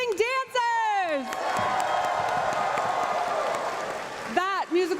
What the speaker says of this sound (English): let's hear one more big round of applause for Kylo Moon and our amazing dancers